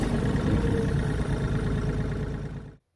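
A tractor's engine runs at a steady idle after starting, a continuous, moderately loud, close rumble that cuts off abruptly near the end, with no talk over it.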